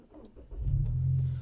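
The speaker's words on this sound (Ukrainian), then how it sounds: "Двигун запускається чудово." An Audi A3 engine with 204,000 km cranks briefly, then catches and settles into a loud, steady low idle, close by.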